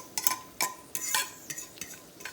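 Cheese omelette cooking in a pan, with soft scraping and tapping of a utensil against the pan in a loose rhythm over a faint, quiet sizzle.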